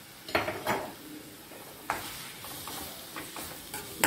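Vegetables with turmeric powder sizzle softly in a pan while a spoon stirs them, scraping and clinking against the metal in a few short bursts over a quiet, steady frying hiss.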